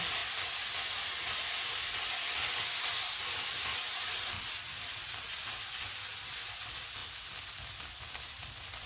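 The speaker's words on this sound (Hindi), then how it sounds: "इनको मिक्स करेंगे और 1 मिनट तक भूनेंगे।" Chicken egg roll filling with black pepper, salt and soy sauce fries in a pan, giving a steady, close, loud sizzle and hiss that runs unbroken throughout with no talking.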